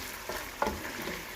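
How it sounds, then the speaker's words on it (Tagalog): Lobster balls frying in a pan until brown give off a steady close sizzle, with a brief clatter of stirring partway through and no talking. "Tapos prituhin nyo hanggang mag brown."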